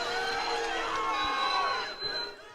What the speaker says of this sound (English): what was it like to hear that ovation when you walked out today?